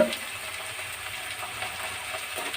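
Ivy gourd curry with turmeric and salt is stirred in a pan over a high flame, a steady close sizzle and fry with soft scraping, continuous and without speech.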